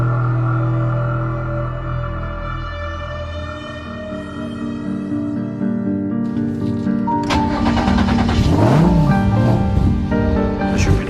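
Renault Twin'Run concept hot hatch on its first run at a test circuit, engine note rising and shifting with tonal harmonics, then revving harder and louder through the second half, close and continuous.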